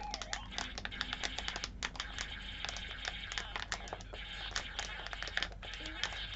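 Leaf switches in a Spectravideo Quickshot 2 retro joystick click rapidly and sharply as it is worked hard, dense bursts of close, bright taps with faint background noise and no clear talk.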